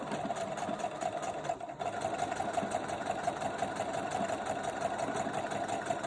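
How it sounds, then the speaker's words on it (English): A sewing machine stitches a buttonhole with a steady, fast mechanical whir and rhythmic needle patter that runs continuously at close range, with a brief dip partway through and no talking. "so let's begin sewing."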